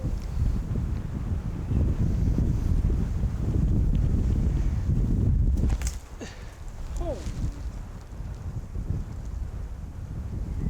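Strong wind buffets the microphone on an open disc golf course, a loud rumbling roar through the first half that drops back to a gustier, lighter blow, with people talking faintly beneath it.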